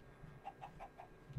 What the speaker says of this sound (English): What do you want, Mr. Chicken?